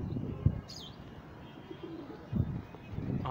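Pigeons coo softly in a loft area, with a few low, muffled calls spread across the span, faint and somewhat distant, mixed with light background noise and a brief high chirp.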